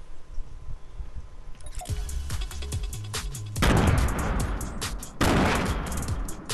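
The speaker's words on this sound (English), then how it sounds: "Someone's shooting." Rapid bursts of gunfire in the video game Fortnite, loud and close, with a dense volley building midway and a second heavy burst near the end.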